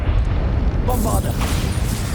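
Bombarda spell detonating in Hogwarts Legacy, a short, heavy rumbling blast with a low, sustained roar and crackling debris, loud and close.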